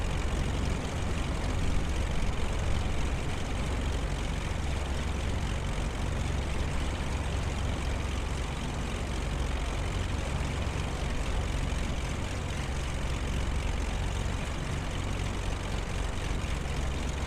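Pilatus PC-12 turboprop airplane running near an island airport runway, a loud continuous propeller and engine roar with a deep low drone that stays steady and close for the whole stretch, with no voices.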